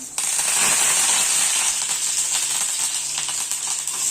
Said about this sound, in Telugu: ఆయిల్ హీట్ అయ్యాక జీలకర్ర ఆవాలు కరివేపాకు